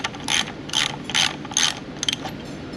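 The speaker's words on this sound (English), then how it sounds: "Handy dandy stud puller." Rapid ratcheting from a stud puller working studs on a 24-valve Cummins power steering pump: about five close, crisp clicking bursts in quick rhythmic succession, with no talking.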